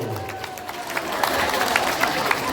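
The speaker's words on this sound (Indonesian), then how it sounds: "aplaus dulu, tepuk tangan dulu" Audience clapping at a plenary session of a regional veterans' association congress in Indonesia, a sustained rumble of many hands with crowd murmur, under a speaker's voice.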